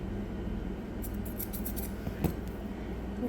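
Grooming scissors snip through a long-haired Yorkie's coat in a quick run of close, light metallic cuts over a steady background hum, with no talking.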